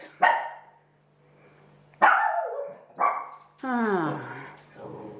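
A dog barks in sharp, loud bursts, four or five separate barks and yips spaced over several seconds, the later ones drawn out into whining howls, close to the microphone with a low hum beneath.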